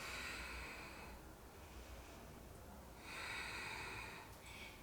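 Steady breathing during a deep yoga twist: soft, airy inhales and exhales in long, even phases, close and quiet against low background hiss, with no speech.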